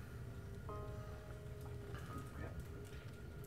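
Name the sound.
rain falling, from the video game Doki Doki Literature Club Purist Mod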